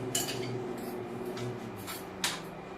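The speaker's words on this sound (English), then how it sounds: "So we're going to take this over here and put it in the skillet." Drained cooked meat for a linguine meat sauce is scraped into a skillet with a utensil, giving a few light clinks and scrapes against the pan over a low steady background, with no talking.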